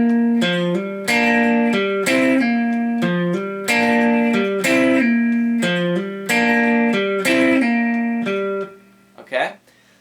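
Electric guitar plays a double-stop riff as a four-bar phrase, with repeated rhythmic chord stabs sounding loud and close, then a brief spoken word at the end.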